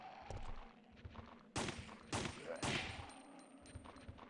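Gunfire in the video game Resident Evil 3: Nemesis, three sharp broadband shots fired a short way apart, each with a ringing tail, over quieter game ambience and faint sounds.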